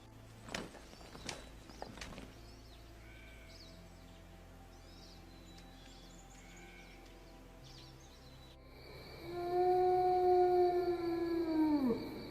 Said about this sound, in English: It's one of the forest hounds from before.